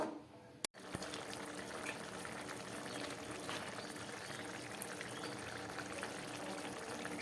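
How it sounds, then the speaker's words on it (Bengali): Fish curry gravy bubbling in a pan on a gas stove gives a faint, steady simmering hiss with soft bubbling, briefly cut by a short gap near the start, then continuing evenly. "মাছের ঝোলটা ফুটে উঠেছে।"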